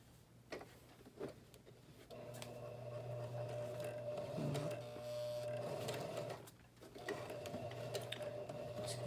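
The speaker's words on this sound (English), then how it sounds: "Now I'm going to do about 6 stitches going for the number 2 stitch" A Kenmore 385 sewing machine stitches a buttonhole, running in a steady mechanical whir for several seconds with short pauses before and after, close and fairly quiet.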